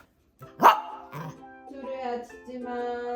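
A small pet dog gives a sharp close bark, then a second yip, followed by a higher whining, tonal vocalising that continues to the end.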